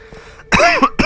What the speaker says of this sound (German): manchmal habe ich noch so ein bisschen Hustenreiz